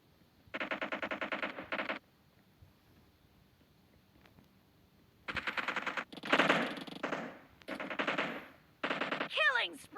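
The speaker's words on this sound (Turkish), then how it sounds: "Burada bir çatışma var. Bizimkisi çatışıyor." Automatic gunfire from a firefight in the video game PUBG, loud rapid bursts in several separate volleys with a short quiet gap between them.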